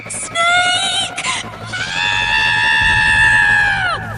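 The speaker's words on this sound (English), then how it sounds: "Then, we heard a pained scream from Mom's tent." A mother screams in pain from inside a tent after a rattlesnake bite, giving a short high cry and then a long, sustained shrill shriek that trails off at the end.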